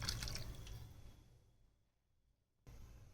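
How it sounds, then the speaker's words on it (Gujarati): Water splashes into a pot of soaked, pressure-cooked ragda peas on the stove, a short pour that fades quickly, then a brief second splash near the end; faint and close, with no talking. "પાણી નાખશું"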